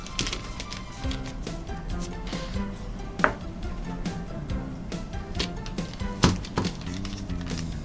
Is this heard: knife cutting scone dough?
yes